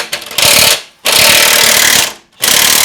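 A power tool with a 19mm socket works a track bar bolt on a Lexus GX470, roaring loud and close in three sustained bursts separated by brief pauses.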